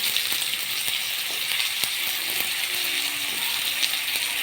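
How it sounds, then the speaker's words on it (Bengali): Potato pieces frying in oil with five-spice seeds, a steady crackling sizzle with scattered sharp pops and clicks of seeds and utensil against the pan, moderately loud and close. "এতে আমি টুকরো করে রাখা আলু দিয়ে দেব।"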